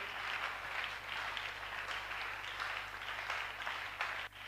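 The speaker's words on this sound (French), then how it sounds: "Nous acclamons fortement." Church congregation applauding loudly at a French-language service, a steady dense wash of clapping that fills the whole stretch with no pause.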